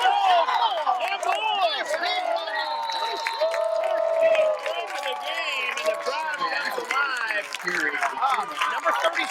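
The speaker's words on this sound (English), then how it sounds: "You can see the crowd coming alive." A high school football crowd roars and cheers on a fourth down, with dense overlapping shouts and whoops, steady and loud throughout, plus some clapping.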